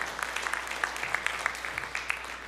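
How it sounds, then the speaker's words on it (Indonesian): Scattered clapping from a modest church congregation during a sermon, a dense patter of hands continuing steadily at a moderate distance. "Berikan tepuk tangan yang meriah buat Tuhan."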